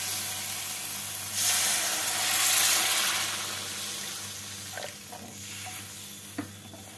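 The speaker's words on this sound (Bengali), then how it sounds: "মশলাটাকে ভালোভাবে কষিয়ে নিয়েছি, এবারে এর মধ্যে দিয়ে দেবো পরিমাণ মতো জল।" Water poured into a pan of fried spice masala sets off a sudden surging steam hiss that swells and then fades to a quieter bubbling sizzle with a few stirring scrapes, close and with no talk.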